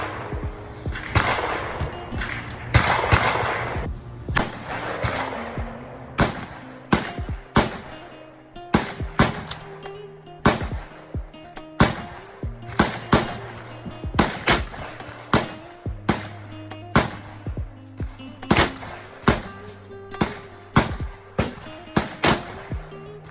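An AR-15 rifle fires 5.56x45 NATO rounds at an outdoor shooting range. Around twenty sharp, loud cracks come at irregular intervals, each with a short decay, over a faint low hum.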